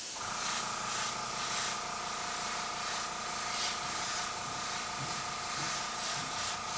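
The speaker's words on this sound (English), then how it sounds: "I'm going to spray the yellow around it" Yellow paint sprays from an airbrush in a steady, airy hiss, running continuously and close, with a faint mechanical hum beneath it.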